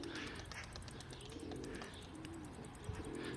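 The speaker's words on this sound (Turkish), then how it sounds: "Arkadaşlar kuşumuz geliyor." Soft repeated cooing of a pigeon against a steady background hiss, with faint chirps here and there.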